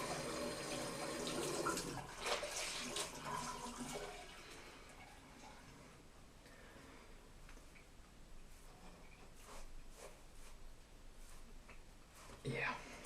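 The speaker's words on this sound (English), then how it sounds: "Let me just get a little bit of hot water on my face." Hot water running from a tap into a bathroom sink while a man wets his face before a double-edged razor shave, a faint steady splashing with some brief louder bursts.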